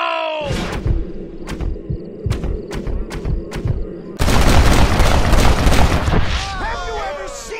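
Gunshots in the western game Red Dead Redemption: a series of sharp, loud revolver cracks in quick succession, then a denser burst of firing, with a voice speaking over parts of it.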